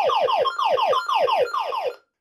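Optima Compact alarm system sounding its initial alarm just after power-up: a loud, repeating descending electronic siren sweep, about eight rapid falling tones in a row, alone, stopping abruptly.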